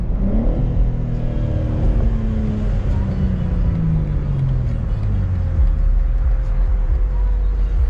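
A Ford Mustang engine revs up loudly nearby, its pitch climbing and then sliding down as it passes, with steady road rumble throughout.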